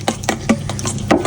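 A utensil stirs homemade Caesar salad dressing in a bowl, five quick rhythmic scraping strokes close up, with no voices.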